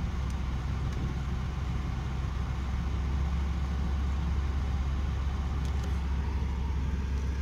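A car engine running with a steady, loud low rumble throughout, with no clear rise or fall in revs.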